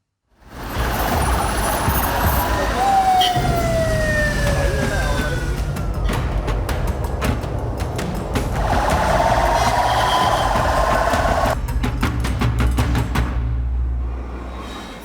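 A traffic jam near the Paliyekkara toll plaza at Amballur, Kerala: loud, continuous engine and road noise with rising and falling siren tones and bursts of horns from stalled vehicles.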